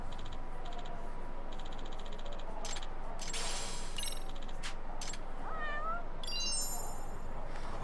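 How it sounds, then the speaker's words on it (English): A cat meows several times over a steady, noisy background with some rattling and clinking, no one talking. "Cat. Cat. This right here."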